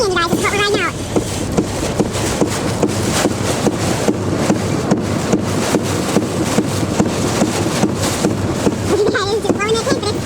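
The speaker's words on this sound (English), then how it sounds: "those winds are getting super strong" Strong winds from Hurricane Wanda in Florida roar continuously against a tent and buffet the microphone at high, steady loudness, with a voice briefly heard at the start and end.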